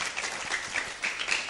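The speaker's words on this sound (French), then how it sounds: "applaudissez pour le frère" Church congregation claps for a brother during a worship broadcast, a short burst of even, moderately close applause with no voices over it.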